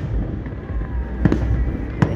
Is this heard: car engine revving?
no